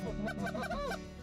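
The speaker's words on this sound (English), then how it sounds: "there are still plenty of geese in the air" Canada geese honking overhead during a rainy, windy autumn goose hunt at Lac La Parle, a dense overlapping chorus of many birds calling continuously.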